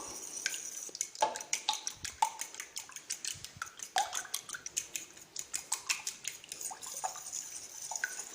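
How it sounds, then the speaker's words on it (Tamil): Eggs and milk whisked together in a bowl, heard as a fast, even run of light wet clinks and taps of the utensil against the bowl, close and fairly quiet. "இப்போ இந்த முட்டையும் பாலையும் நல்லா சேர்த்து கலந்து எடுத்துக்கணும்."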